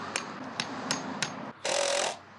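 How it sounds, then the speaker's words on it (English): Wooden stakes are hammered into the ground with four evenly spaced, sharp strikes, followed by a short burst of louder rasping noise, all close up. "So the ply goes in and then I can hammer in the stakes"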